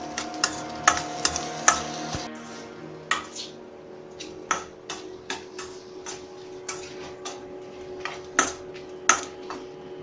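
Dosa masala with green chillies is sautéed in a pan; a utensil taps and scrapes sharply at irregular intervals over a faint, quiet background sizzle.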